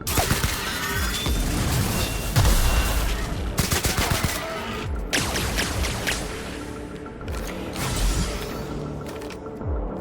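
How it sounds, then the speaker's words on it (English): Dense, sustained gunfire from The Outer Worlds video game, rapid overlapping shots and bursts filling the whole stretch with crashing impacts, loud and continuous, with no talk over it. "Stop shooting me."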